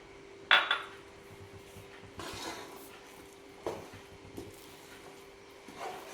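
Spoon stirring cooked kuska rice in a pot, with a sharp metallic clink near the start followed by a few softer scraping taps spaced across the stretch, fairly quiet and close with no talking.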